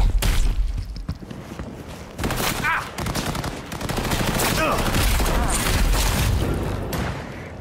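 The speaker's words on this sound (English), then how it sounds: "More, more! Keep shooting!" Rapid bursts of gunfire in the video game Cyberpunk, close and loud, with clusters of shots and booms over a dense battle din, while voices speak over the shooting.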